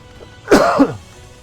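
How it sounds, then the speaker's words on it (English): A single throaty cough, close to the microphone, harsh and short with a rough rasping tail, against faint background noise. "Apologies for the cough."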